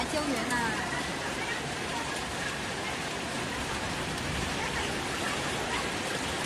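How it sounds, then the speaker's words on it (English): Heavy rain pours with a dense, steady hiss during a violent urban flooding storm with ferocious winds on a roadway in China, loud and constant throughout. "Ferocious winds and blinding rain lash this roadway."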